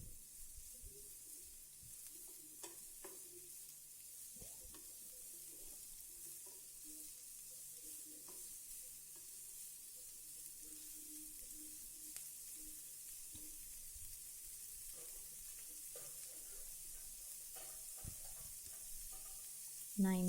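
Onions sautéing in a pan for paneer masala give a faint, steady sizzle and hiss throughout, with occasional soft stirring clicks.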